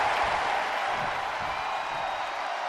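A steady, dense roar from an arena crowd in the WWE 2K24 wrestling game, during a SummerSlam dream match between Randy Orton and Stone Cold Steve Austin. The crowd noise holds at an even, loud level throughout.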